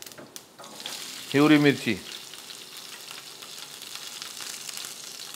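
Fenugreek seeds and cumin sizzle in hot oil while cooking a Vidarbha-style spinach dish, a steady frying hiss with a short spoken phrase over it partway through.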